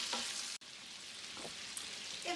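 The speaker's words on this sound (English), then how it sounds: "I'm going to stir my bacon a little bit more" Bacon sizzles and crackles steadily in a pan while being stirred, with a close, even hiss and a few soft scraping movements.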